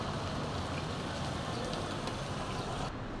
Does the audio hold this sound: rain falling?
yes